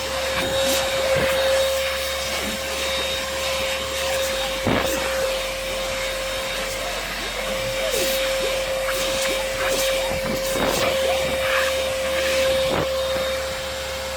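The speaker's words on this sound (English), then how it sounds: "So this is the Cyclone vacuum cleaner, so it's even better." A Dibea C17 cordless cyclone vacuum cleaner runs steadily throughout with a constant motor whine and airy roar, punctuated by occasional clicks and rattles of debris.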